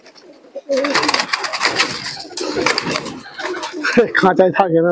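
A pair of pet teddy pigeons let out of their cage coo softly at close range, with someone talking over them throughout.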